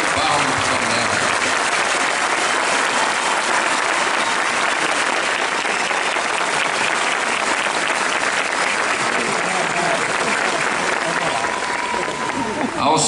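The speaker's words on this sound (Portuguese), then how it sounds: "Uma salva de palmas para ela." Sustained, dense applause from a church congregation at a bishop's canonical installation, loud and unbroken for many seconds, filling the hall with a steady wash of clapping.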